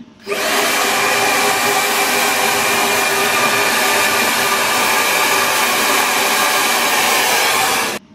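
A GHD Helios hair dryer blows steadily at close range for about eight seconds while hair is styled, a loud, even rushing whir that starts and stops abruptly.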